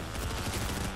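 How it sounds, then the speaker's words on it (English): Rapid gunfire from the My Hero Academia Ultra Rumble video game, a dense continuous volley of shots filling the short moment at steady loudness with no talk over it. "Where is the guy shooting me?"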